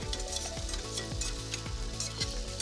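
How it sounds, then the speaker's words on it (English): Sausage and onions sizzle in a hot pan while being stirred, a close, crackling fry with soft scraping strokes repeating every half second or so. "The next thing that's going in, sausage, right in with onions. Stir it around with the onions so your onions don't burn."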